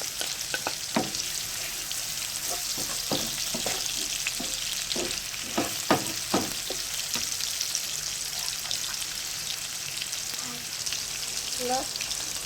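Red onion fries in a pan while being stirred, giving a steady moderate sizzle with intermittent scraping clicks from the utensil.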